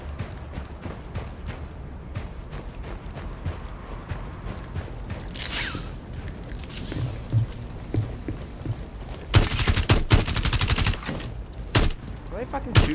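Gunfire in Rainbow Six Siege during a team deathmatch on the Yacht map, with scattered shots and clicks through the clip and a louder, denser burst of rapid fire near the end.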